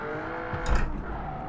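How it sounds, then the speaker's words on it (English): V8 Morgan 3 Wheeler engine in the Automation car game, a steady, loud, dense drone with a brief swell partway through, no voices. "I like to hear a car dip below its like peak power"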